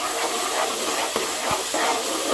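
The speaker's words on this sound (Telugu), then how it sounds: "ఆనియన్స్ని ఇలా మంచిగా ఫ్రై చేసుకోవాలన్నమాట" Onions frying in a pan for a chicken curry give off a steady, close, loud sizzle and hiss, with a few faint clinks from stirring.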